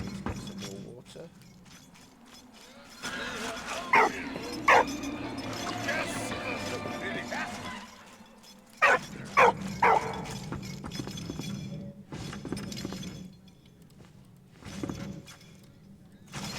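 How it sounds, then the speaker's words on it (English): A little dog barks in the video game Valiant Hearts, short sharp yaps in two quick clusters over the game's ambient sound, while someone talks over much of it. "Little dog."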